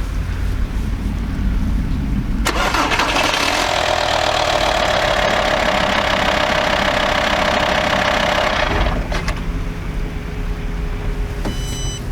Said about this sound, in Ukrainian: І зараз будемо пробувати запускати автомобіль.